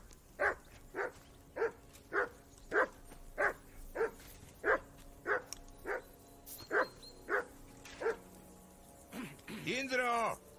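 Dog in the Kingdom Come Deliverance 2 video game barking repeatedly in an even rhythm, about a dozen sharp barks at close range, then a voice speaks at the end.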